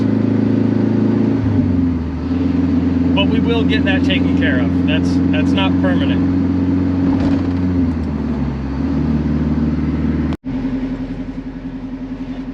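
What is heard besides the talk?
turbo Honda S2000 with straight downpipe exhaust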